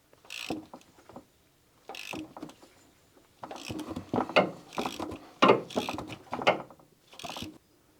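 A ratchet turns the crankshaft of a Fiat Panda 169 1.2 VVT engine by hand during a cambelt change, making close, bursty runs of rapid clicking with short pauses between strokes.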